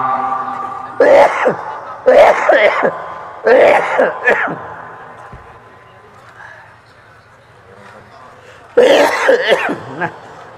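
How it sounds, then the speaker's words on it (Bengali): A preacher at an Islamic sermon coughs in harsh, close, loud bursts, several fits in a row, then a quieter lull before another strong coughing spell near the end. "কাশিটা তো বন্ধই হচ্ছে না, কি ঝামেলা?"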